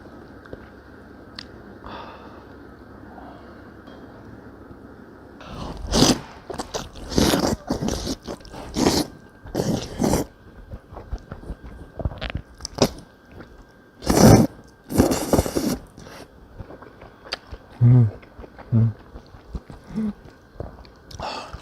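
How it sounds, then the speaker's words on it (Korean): Jjajangmyeon noodles in black bean sauce being mixed and eaten at a Chinese restaurant, starting with quiet rustling, then a run of close, loud slurps, smacks and chewing bursts in an irregular rhythm. "일단 짜장면을 비벼가지고"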